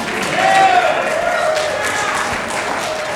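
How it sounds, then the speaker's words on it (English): Enthusiastic audience applause fills a hall of fame ceremony for an automobilia foundation, a steady wash of clapping from a large crowd that holds at an even level throughout, with a brief tonal whistle or voice rising over it early on. "Wow, it's an enthusiastic crowd."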